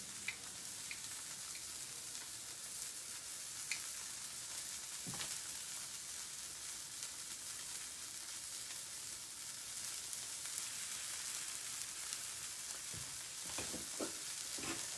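Chicken pieces sizzle steadily in a hot pan, a continuous close frying hiss with occasional louder pops and scrapes, no voices.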